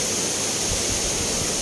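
Kundah waterfall in the Nilgiris roars as a steady, dense rush of falling water, loud and close, with no voices over it.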